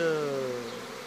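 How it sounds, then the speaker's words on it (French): Honey bees and drones buzzing during the capture of a swarm at a hive, a close, dense insect drone with a steady pitched hum that slowly fades slightly, with no talk over it. "On voit des faux bourdons, on voit des abeilles"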